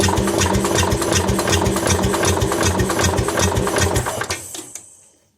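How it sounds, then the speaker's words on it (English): An engine cranking over on the starter to test the fuel pump, with the spark plug out and the head being removed: fast, rhythmic, loud chugging for about four seconds, then it winds down to silence. "Let me crank this over, and if you guys get shot with fuel,"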